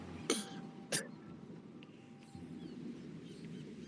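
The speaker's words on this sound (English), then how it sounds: "He's coughing, barely conscious." Two sharp, close coughs come in quick succession near the start, then quiet room tone follows.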